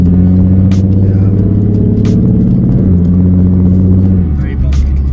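A Ford Mustang with a 3.7 V6 engine running loud and close while driving, a steady rumbling drone with rev shifts and a drop in pitch near the end, plus a few sharp knocks from inside the car.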